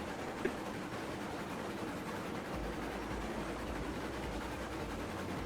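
Steady rumbling train from the Railroads Online video game, a locomotive running continuously with a low engine drone that deepens partway through, one brief click near the start, no talk.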